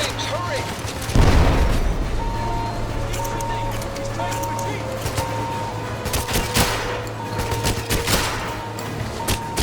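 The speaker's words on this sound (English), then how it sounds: "Someone threw a grenade." A grenade explosion in the 007 Legends video game, a heavy low boom early on followed by scattered gunfire and a steady game hum, while a person talks over it.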